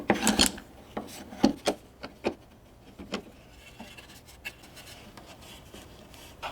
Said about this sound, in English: I'll use my combination square to draw a line.